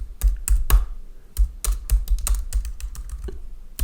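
Code being typed on a computer keyboard: a close, irregular run of sharp key clicks and thumps, with brief pauses between bursts and no talking.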